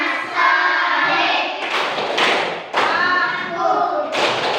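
Children clap hands together in a lively rhythmic chant, with several loud bursts of claps and thumps mixed with young voices singing along close by.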